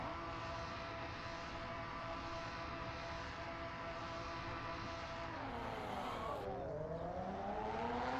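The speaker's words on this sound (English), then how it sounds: "he's got that Ginetta on the limiter" A Ginetta race car engine is held on the rev limiter, droning loud and steady. Near the end the pitch dips and climbs again.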